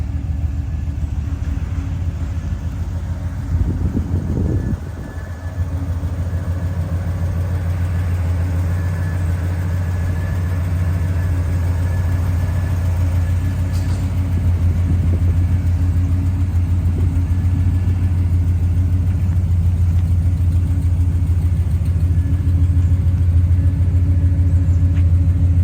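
Car engine on a test drive after a steering repair, a loud, continuous low rumble with road noise that stays steady throughout, one brief knock early on, and no talk.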